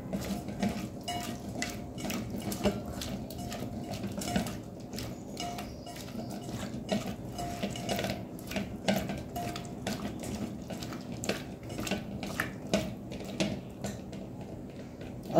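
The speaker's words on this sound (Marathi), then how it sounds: "मी हाताने छान मिक्स करून घेते" Hands mixing shredded cabbage and spices for cabbage manchurian in a bowl, producing a continuous close squelching and rustling with small clinks against the bowl.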